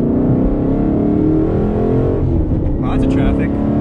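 A naturally aspirated 5.0 car engine roars loudly and steadily at high revs, a dense low rumble close by as the vehicle accelerates hard.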